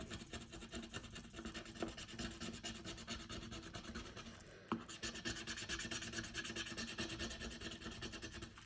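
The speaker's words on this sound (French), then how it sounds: "je finirai de gratter plus tard parce qu'elles sont pas faciles à gratter" Something stubborn and hard to scratch off is scraped at, giving a quiet, continuous rasping rub close up, with a brief pause and a single sharper scrape midway.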